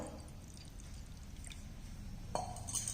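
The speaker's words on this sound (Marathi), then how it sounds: "इथं एक वाटी पाणी ओतणार आहोत" A bowl of water is poured into gram flour, a quiet trickle followed by a short splash and some faint dripping, close by with no talk.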